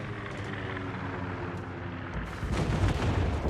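Heavy naval gunfire and explosions from a World of Warships battle, a dense continuous roar of booming shots that swells louder near the end, with no talking.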